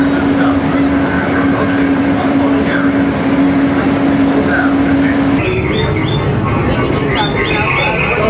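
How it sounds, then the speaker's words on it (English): Disneyland railway train running through the park, a steady rumbling ride noise with a sustained whistle-like tone, then a change in sound partway through as the train moves, with crowd chatter and talk mixed in. "the railway train in Disneyland."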